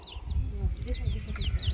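Chicks peep in short rising and falling chirps over a low rustling background, several calls overlapping at close range, with faint voices nearby.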